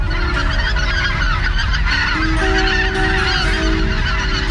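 Geese honk repeatedly at the Vente Cape bird-banding site on the Curonian Lagoon in Lithuania, a dense overlapping chorus of loud nasal calls sounding continuously and close.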